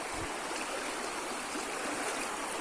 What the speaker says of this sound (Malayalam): അതിൻ്റെ അടിയിൽ കൂടെയാണ് ഈ തോടിങ്ങനെ ഒഴുകി പോണത്.